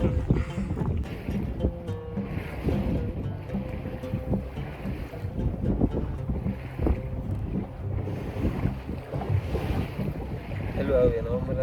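A boat ride in Egypt's Fayoum with steady wind buffeting the microphone, a low engine and water rumble underneath, and faint voices in the background.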